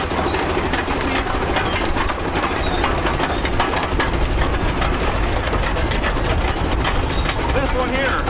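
A 98-year-old International Harvester tractor engine runs at an outdoor steam-up show, a loud, steady, dense mechanical rumble with rattling, with voices faintly in the background.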